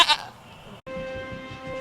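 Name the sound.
goat bleating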